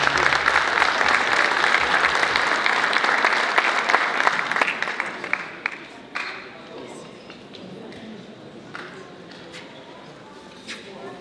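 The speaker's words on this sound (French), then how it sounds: "Une bonne main d'applaudissements." An audience at a 2018 Iftar dinner bursts into loud, dense clapping that holds steady for several seconds, then thins into scattered claps before fading out.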